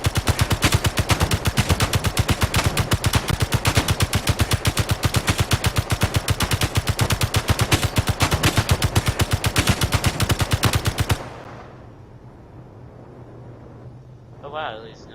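Rapid sustained automatic gunfire in the video game Space Engineers, loud and dense, with a fast even rhythm that runs for about eleven seconds, then stops abruptly, leaving faint background noise and a brief sound near the end.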